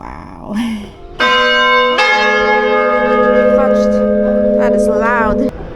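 A loud church bell rings at very close range inside a bell tower in Cadiz, Spain, its deep tone sustaining and humming, preceded by brief voices and rustling.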